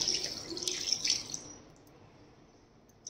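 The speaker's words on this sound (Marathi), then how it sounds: "त्याच्यामध्ये पाणी टाकत आहे मी 1 गिलास" A glass of water poured into a cooking pot of Saoji-style mutton trotter curry, a splashing gush for about a second and a half that then fades to quiet.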